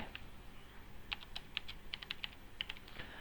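Someone types on a computer keyboard, a quiet, close run of light key clicks in quick irregular bursts over a faint room hum.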